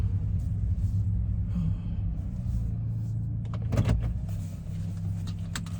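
A car parks in a small lot in Japan. A low, steady engine rumble runs throughout, with brief mechanical clicks and a rattle near the middle, like a window motor or keys, before the car settles.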